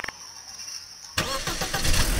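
A DeLorean car in the Garry's Mod game starts up after a faint quiet stretch, then its engine runs loud and rough, holding a steady rumble close by.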